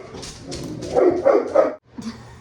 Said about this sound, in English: he scares me when he barks out of nowhere